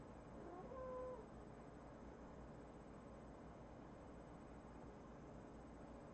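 A cat gives a short meow near the start, fairly faint over a steady hiss of room noise, then the rest stays quiet.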